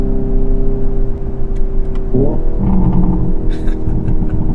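A Hyundai Ioniq 5 N accelerates with a loud, steady synthetic engine drone heard from inside the cabin, the tone jumping upward midway as if through a gear shift.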